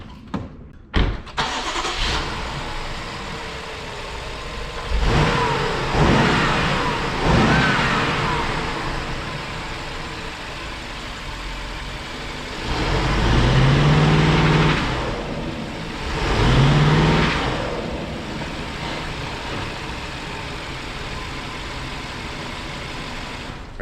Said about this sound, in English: you can't really hear much other than the tires squealing